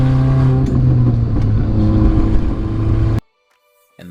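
A supercharged R53 Mini Cooper S with a six-speed manual gearbox drones loudly and steadily from close by, then cuts off abruptly near the end.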